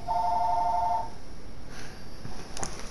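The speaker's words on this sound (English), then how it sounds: "another fucking random phone call to this fucking house" A house landline telephone rings with a steady two-tone electronic trill for about a second, heard over constant background noise, followed by faint clicks; no talking.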